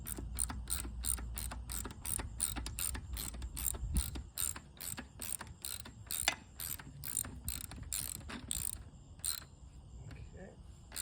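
A socket ratchet tightens bolts on a 1967 Plymouth Barracuda bucket seat during reupholstering: steady, close, rapid clicking in repeated strokes through the whole stretch, with no talking.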